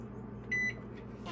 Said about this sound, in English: I'm gonna do kitchen timer in 30 minutes and start